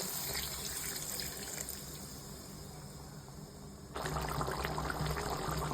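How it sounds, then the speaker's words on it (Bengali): Coconut milk poured into a simmering prawn malai curry, a steady liquid rush that grows louder and fuller partway through, close by with a faint background hum and no talking. "এবার আমি নারকেলের দুধটা দিয়ে দেবো"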